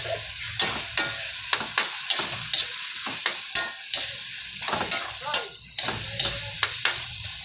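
Onions are stirred into frying corned beef and potatoes, giving a constant sizzle broken by repeated sharp scraping strokes of a utensil against the pan, close and fairly loud.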